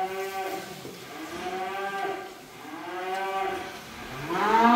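Limousin cattle mooing in a seed-stock sales yard, long drawn-out low moos following one another, with a louder, closer moo rising at the end.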